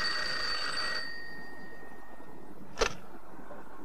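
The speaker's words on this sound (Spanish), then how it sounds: "Perdone, el teléfono." An office telephone rings in an old-fashioned bell tone that sustains for about a second and then fades, followed by a short sharp knock against a quiet room.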